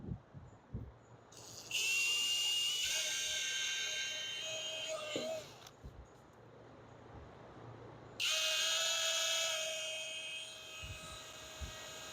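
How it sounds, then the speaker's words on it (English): Power drill boring a hole through regular steel while a custom wood bed frame is built for a 1947 Ford COE truck; two loud, sustained whirring bursts, each a few seconds long, with a brief pause between and no talk. "So I'm just going to drill the hole."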